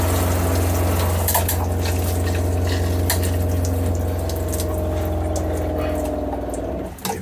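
An upgraded RV shower head spraying water on its different settings, a loud steady rushing spray over a low pump-like hum, with the flow changing near the end.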